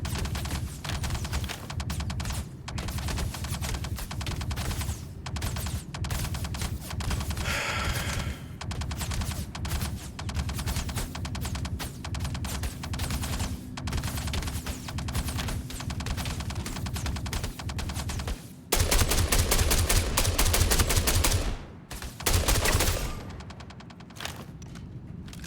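Rapid gunfire from a handheld weapon in the space sim Star Citizen, with fast repeated shots in long strings broken by brief pauses and a louder, denser burst near the end.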